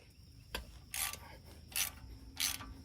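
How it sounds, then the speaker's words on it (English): A wrench works the nut off a GMC tie rod end, giving a single click followed by three short ratcheting bursts spaced across a few seconds, quiet and close, with no talk. "We're going to take the nut off."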